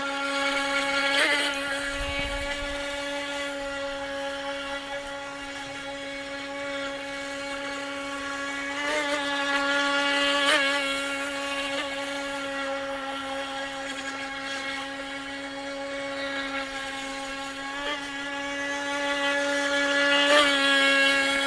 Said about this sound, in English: I will say this boat is a little bit louder than the other boats